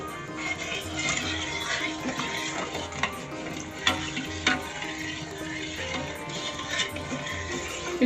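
Custard is stirred in a pan, with a continuous soft scraping and bubbling hiss broken by scattered light clicks of the spoon against the metal, close and fairly quiet.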